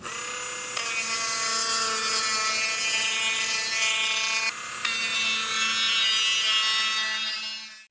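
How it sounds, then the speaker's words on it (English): A Dremel 8240 cordless rotary tool runs with a small sanding drum, a steady high-pitched motor whine with a bright harmonic tone that holds nearly eight seconds, dipping briefly midway as the drum meets the work, loud and close with no talking. "And we'll swap it over to a small sanding drum."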